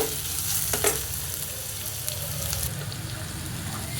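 Onions sautéing in a pan for odacha kadalai sambar, a steady close sizzle running the whole time with a few scraping stirs near the start.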